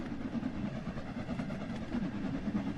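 Steam locomotive train in a train simulator, with the LMS Jubilee 45703 Thunderer leading a double-headed steam tour on the Cornish main line, runs on rails as a steady, dense rumble with continuous rolling rail noise throughout.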